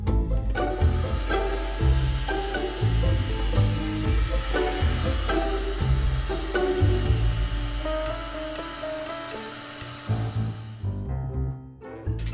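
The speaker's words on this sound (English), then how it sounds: "We're gonna suck them up with the vacuum." A household vacuum cleaner sucks up grasshoppers with a loud, steady whining motor hum and some rattling that shifts in pitch, then thins out and fades toward the end.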